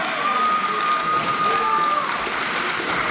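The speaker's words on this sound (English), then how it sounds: "Nice ovation from the crowd here." Crowd applause and cheering at an independent wrestling show after a double drop kick, a steady dense wash of clapping filling the whole stretch with a whistle-like tone riding over it.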